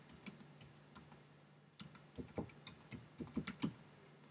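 Someone types on a computer keyboard while entering a page title in InDesign: a quiet, irregular run of crisp key clicks, sparse at first and then quicker and louder in a close burst, with no talking.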